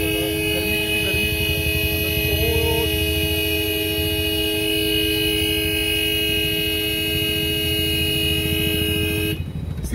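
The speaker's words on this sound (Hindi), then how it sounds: "मेरा ही हॉर्न बज रहा था" A car horn stuck after an accident blares in one continuous, steady tone for nearly ten seconds, loud and close, then cuts off abruptly at the end.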